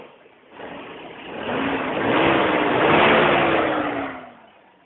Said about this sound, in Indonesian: suara mesinnya masih nyaring kan, tidak